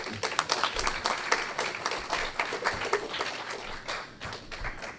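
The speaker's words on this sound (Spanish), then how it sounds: "Un fuerte aplauso, por favor." An audience at an academic seminar claps steadily for several seconds, a dense patter of many hands at moderate volume, with no speech.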